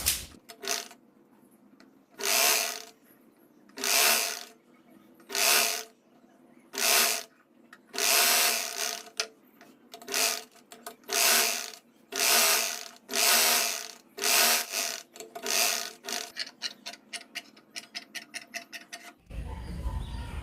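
A sewing machine stitches the fold of a shirt sleeve being lengthened from short to long, running in short, evenly spaced bursts with quiet gaps, then a faster string of stitches near the end, close and moderately quiet.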